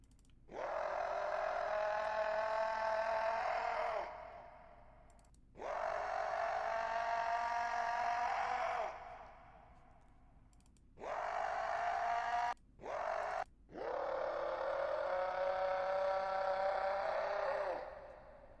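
Four deep, drawn-out video game monster groans with raspy harmonics, each lasting a few seconds, separated by short silences, with two quick clipped bursts near the end.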